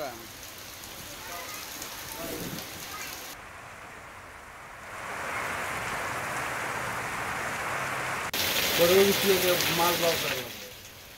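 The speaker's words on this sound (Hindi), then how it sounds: "अचानक से आसमान में अंधेरा छा गया और हल्की बूंदाबांदी हो रही है" Light rain drizzles outdoors in Patna, a steady soft hiss of falling drops that continues throughout and swells slightly near the end, with faint speech here and there.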